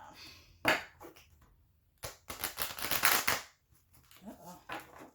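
Quick bursts of card shuffling, a riffle followed by a longer rapid flutter of cards, close by, with a few soft handling sounds around them.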